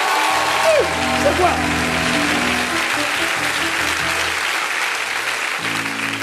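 A church congregation applauds and cheers loudly and steadily all the way through, while a preacher's voice talks over the crowd noise.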